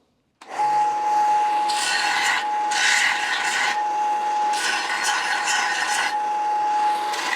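A hand file rasps back and forth along the edges of a metal part for a sander rest, making close, steady rough strokes in repeated bursts over a faint constant hum, with no talk.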